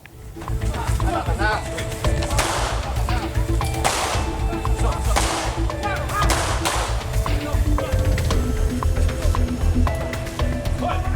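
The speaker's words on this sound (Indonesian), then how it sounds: "Tim Klewang Satreskrim Polresta Padang mengeluarkan tembakan peringatan ke udara" Police fire several sharp warning shots into the air, loud cracks rising out of a noisy outdoor crowd while people shout and talk throughout.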